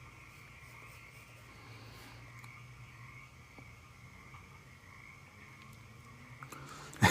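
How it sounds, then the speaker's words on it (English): Frogs croak at a distance in a faint, continuous chorus that holds steady throughout, ending in a brief sharp knock. "Frog noises."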